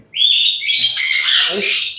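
Lutino cockatiels and other caged birds at a bird farm colony in Bangladesh, loud close shrill squawking calls in a few bursts over two seconds.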